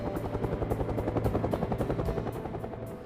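A Huey helicopter flies overhead, its rotor blades thumping in a fast, steady rhythm over a low engine drone, loud and close throughout.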